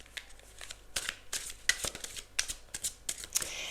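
Tarot cards handled and shuffled during a reading, with a run of soft crisp riffles and slaps at close range, alone with no talk.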